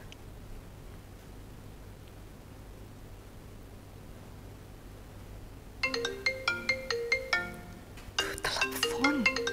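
A telephone ringtone plays as a bright, melodic electronic tune in repeated short bursts, starting partway through after near-silence and continuing to the end at moderate loudness, with no voices.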